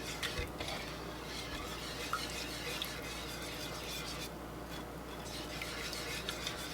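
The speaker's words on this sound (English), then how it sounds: "We're going to go ahead and get this mixed up and combined." Chicken and gravy ingredients stirred in a crockpot, a faint continuous scraping and swishing of a utensil through thick mixture, with soft clinks against the pot and no voices.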